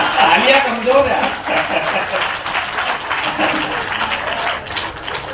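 Applause from a live audience at a comedy and parody poetry gathering in Indore, a steady, moderately loud patter of clapping running throughout with a voice briefly audible early on.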